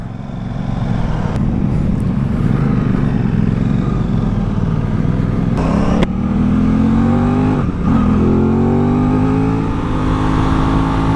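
A 2021 Aprilia RS 660 motorcycle pulls away, its engine revving loud and close as it climbs through the gears, with the pitch rising on each pull and a brief dip at every shift.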